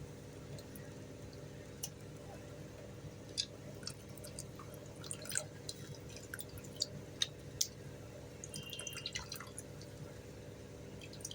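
Soaked tamarind squeezed by hand in water for a black pomfret fish curry, with soft irregular drips and small splashes over a steady low background hum, no voices.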